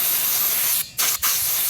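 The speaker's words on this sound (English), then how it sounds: "spray all that dust off the cable" A throttle cable on a Sur Ron electric bike is sprayed to clear dust, giving a steady close hiss of aerosol with two short breaks in the spray.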